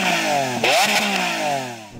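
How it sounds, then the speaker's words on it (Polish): Lamborghini Aventador SV's V12 exhaust revs hard, climbing to a sharp peak, dropping briefly, then surging again before settling back. The loud, close, harmonically rich roar carries throughout with no talking. "porównajmy brzmienie ich wydechów w czasie zwiększania obrotów"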